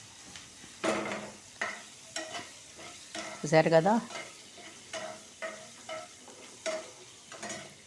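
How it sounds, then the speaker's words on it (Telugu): A tempering of chana dal, mustard seeds, cumin, dried red chillies and curry leaves frying in oil, crackling and sizzling in bursts close by, with someone speaking briefly over it. "పోపు వేగుతున్నది."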